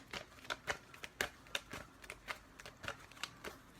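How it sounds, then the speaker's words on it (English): A deck of tarot cards is shuffled in a long run of quick, crisp riffles and snaps, close but quiet, with no talking. "Long shuffle."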